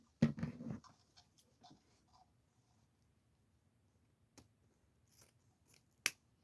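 Scissors cut ribbon for a wreath, with one crisp burst of snipping up close at the start, then faint scattered handling taps and a sharp click near the end, in a quiet room.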